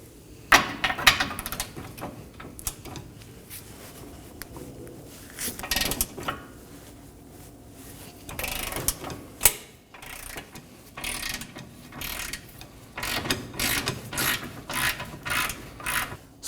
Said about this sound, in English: We're going to break free our 19mm nut.